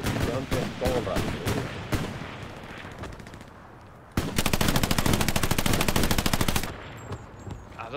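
Rapid automatic gunfire from the World War II shooter Hell Let Loose, with sharp single shots and bursts at first, then a loud sustained volley of machine-gun fire that cuts off abruptly, leaving quieter distant battle noise.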